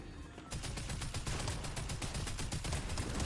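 Rapid gunfire in a multiplayer shooter video game, a dense burst of repeated loud shots starting abruptly after a brief lull and continuing steadily to the end.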